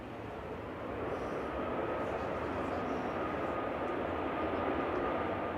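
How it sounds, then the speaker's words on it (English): A SmartLynx Malta airliner, registration 9H-LYR, landing at Manchester from Naples, makes a steady, moderate engine roar that rises within the first second and then holds evenly. "Ghost plane touching down from Naples, 9HLYR, operated by SmartLynx Malta 42E, flight 2155"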